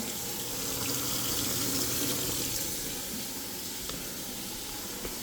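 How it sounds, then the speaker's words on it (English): Steady hiss of water running from a sink faucet in a flooded laundry room, continuous and fairly close, with no voices. "So we had this sink running."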